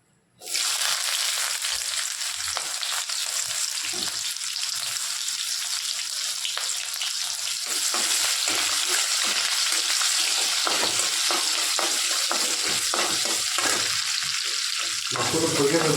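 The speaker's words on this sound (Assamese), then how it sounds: "মাছটো ভালকৈ ভাজি লওঁ।" Fish pieces frying in hot oil in a pan. A loud, dense crackling sizzle starts abruptly and runs without a break to the end, with occasional light stirring taps and no talk.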